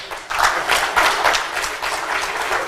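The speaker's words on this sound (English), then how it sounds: "I think our brother, deserves another round of applause." A conference audience gives a speaker a round of applause, a dense, steady clapping that stays fairly loud throughout.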